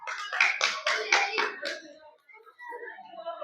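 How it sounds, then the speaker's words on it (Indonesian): Children clap together in a quick burst of rhythmic claps at an Indonesian children's seminar, mixed with their voices, before giving way to scattered chatter. "Ya, tepuk tangan."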